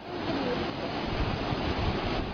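Floodwater rushes over a road in Texas as a steady, loud, broadband roar of churning water that stays constant throughout, with no voices.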